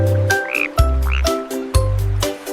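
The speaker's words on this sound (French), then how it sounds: "Une drôle de grenouille saute sur une bûche." A frog croaks close by in repeated bursts, about four throaty calls with short pauses between them.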